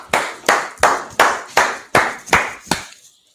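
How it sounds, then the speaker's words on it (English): Eight sharp, evenly spaced claps ring out at a steady rhythmic pace, like a unison group clap from a congregation at a religious gathering, loud and close with no talk over them. "Clap it up."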